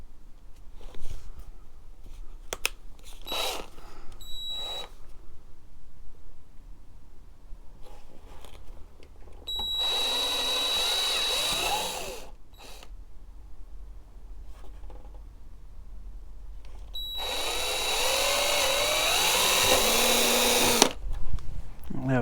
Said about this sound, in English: it's a 4mm drill bit that I've got set up in my drill here, so I'll just drill them out